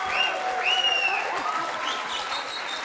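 A TV studio audience applauds steadily, mixed with whoops and cheers from the crowd, with a few high whistle-like calls sliding over the clapping throughout.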